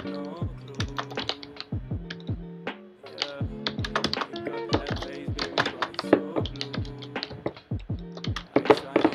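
Rapid, loud computer keyboard typing during a Hypixel Bowspleef Minecraft match, dense clacking keystrokes in fast irregular bursts alongside tonal game sounds, close to the microphone throughout.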